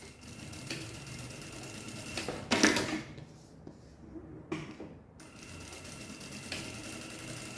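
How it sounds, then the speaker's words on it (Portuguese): A sewing machine runs in short bursts while stitching a Berlin-style bag, its mechanical whir rising and pausing, with a louder clatter in the middle. "Meio pezinho de máquina, tá? É só um tiquinho de costura."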